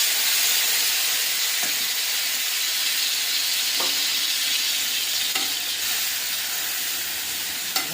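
Chicken coated in cumin, coriander, chilli, salt, turmeric and garam masala sizzles steadily in a pan, a continuous loud frying hiss with a few soft stirring scrapes.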